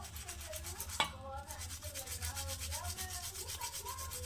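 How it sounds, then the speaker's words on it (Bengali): A conch shell bangle being scrubbed with lemon and Colgate toothpaste, giving a steady, close scratchy rubbing in quick repeated strokes, with one sharp tap near the start. "লেবু লাগিয়ে তারপরে কলগেট দিয়ে ঘষে নিতে পারেন"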